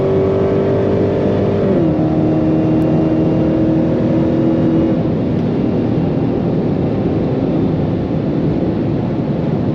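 A 751 HP Dodge Charger Hellcat accelerating hard in track mode, its loud engine drone holding steady, dropping in pitch at a gear shift, then continuing to pull strongly without talk.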